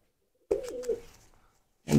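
A champion tournament pigeon from Munshiganj, Bangladesh gives one close, soft, rolling coo, and a second call starts just as the sound cuts off.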